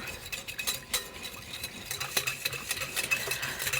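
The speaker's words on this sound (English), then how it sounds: "you want to be whisking continually once you put it into the bowl" Rapid, steady scraping and light clinking of a whisk beating eggs in a bowl for hollandaise sauce, continuous and close, with no talking.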